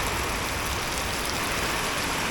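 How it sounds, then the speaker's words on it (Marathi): Heavy rain pours down during a sudden coastal Konkan storm, a dense, unbroken hiss of drops drumming on surfaces, loud and steady from start to finish. "खूप पाऊस पडतोय"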